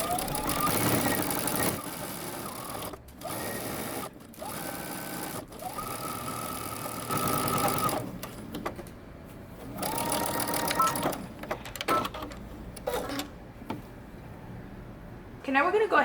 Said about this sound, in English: I'm just going to stitch across the ends.